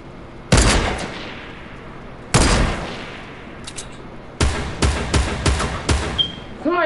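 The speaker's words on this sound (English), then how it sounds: "Somebody shooting." Gunfire in Fortnite at Tilted Towers: a single loud shot, another burst a couple of seconds later, then a rapid string of close shots near the end.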